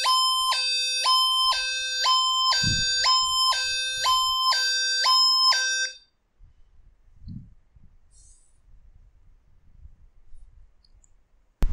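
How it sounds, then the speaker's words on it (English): A loud electronic siren played by a phone anti-theft app alternates between two tones in a steady, rapid wail for about six seconds, then stops abruptly into quiet. "Siren will play like this."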